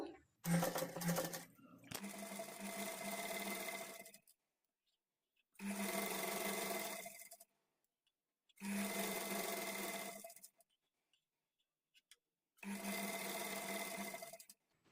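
A sewing machine stitches invisible thread piping close to the fabric edge in four separate bursts of rapid, steady clatter, each a couple of seconds long, with quiet pauses between.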